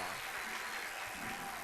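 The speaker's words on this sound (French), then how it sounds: "Applaudissez le Seigneur Jésus." A church congregation claps together during a French-language worship service, a dense and steady wash of applause that sounds quiet and distant throughout.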